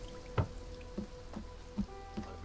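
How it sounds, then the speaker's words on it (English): Rain dripping in the survival video game The Forrest: a few soft, separate drips at an uneven, slow pace over a low steady hum, fairly quiet. "It's quite rainy all the time."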